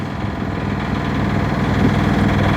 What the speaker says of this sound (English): That's the engine running because we're completely becalmed